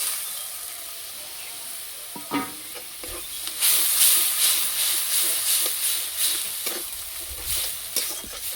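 Ground spinach paste and hot water go into a hot cooking pan, setting off a loud, bright sizzle and steamy hiss that swells and keeps crackling, close and unbroken.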